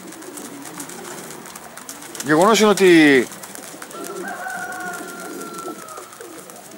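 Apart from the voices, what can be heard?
Outzidika pigeons cooing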